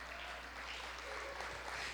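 A church congregation applauds in a soft, even wash of clapping, heard at a distance over a low steady hum.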